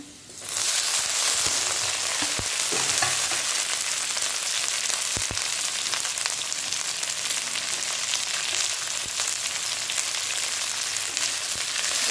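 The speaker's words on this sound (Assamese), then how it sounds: "এতিয়া সৰু সৰুকৈ কটা ঔটেঙাখিনি দি ল'ম।" Finely chopped outenga (elephant apple) hits a hot pan and sets off a loud, dense sizzle that holds steady for ten seconds or more, dotted with small crackles and a few sharp ticks.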